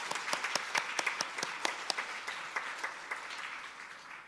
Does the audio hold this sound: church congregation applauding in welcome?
yes